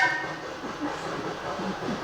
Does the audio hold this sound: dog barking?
no